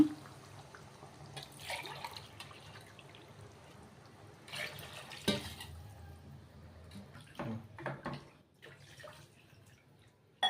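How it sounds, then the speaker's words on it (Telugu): Water poured into a pot of chicken biryani masala, intermittent splashing and trickling bursts of moderate loudness separated by quieter pauses. "ఇప్పుడైతే ఒక కప్పుకి రెండు కప్పులు వాటర్ అయితే వేస్తున్నాను"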